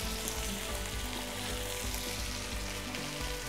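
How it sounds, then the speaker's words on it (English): Steak searing in a preheated pan, a steady dense sizzle and crackle of frying at moderate level throughout, close up with no talking. "Check the bottom of your steak, make sure you've got a good sear going."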